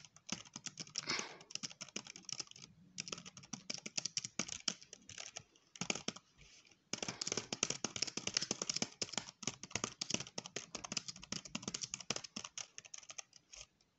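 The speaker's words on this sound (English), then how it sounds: "So now I'm going to be doing some typing." Rapid, continuous typing on a computer keyboard, close and crisp, with a couple of brief pauses and no talking.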